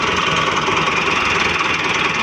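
A 2010 Massey Ferguson 375 tractor idling in neutral, a loud, steady, close diesel rumble with an even knocking throb and no change in pace.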